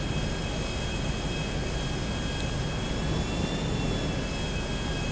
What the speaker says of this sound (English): for as quick as the plane is, I don't think it's as fast as, you know, some of the fighter jets